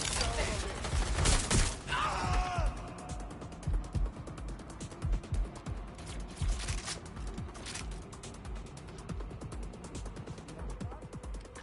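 Gunfire in a GTA 6 video game firefight: rapid, continuous automatic shots crackling steadily throughout, loud at first then sustained at moderate level, with shouted voices mixed in.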